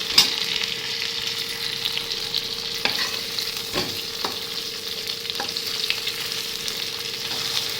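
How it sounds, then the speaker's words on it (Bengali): Fish frying in a pan at home, a continuous even sizzle close by with a few sharp spits and crackles, no talking. "মাছগুলো ভাজা হয়নি আরও ভাজা হবে"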